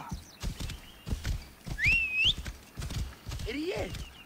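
Horse hooves clip-clopping at a steady walking rhythm in Assassin's Creed Origins, with a whinny and bird-like whistles mixed in, while a person talks over it.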